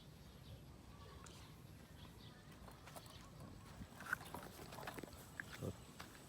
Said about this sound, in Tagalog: Ayan po si Mama Pig at ang kanyang mga biik.